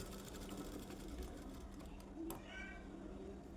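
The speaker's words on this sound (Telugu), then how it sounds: "ఆ టక్స్ షోల్డర్ జాయింట్ పైన పెట్టి అక్కడ నుండే స్టిచ్ స్టార్ట్ చేయాలి" A sewing machine stitches the shoulder seam of a blouse, its quiet, even whir running steadily and faintly beneath a soft voice.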